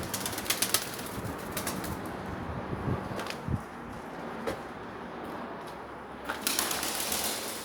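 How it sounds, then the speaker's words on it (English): A pigeon trapped indoors in an abandoned pub, flapping and bumping into things: scattered wingbeat flutters and soft knocks over a hollow room background, loudest in bursts at the start and end. "that pigeon's trying to get out and keeps flying into things."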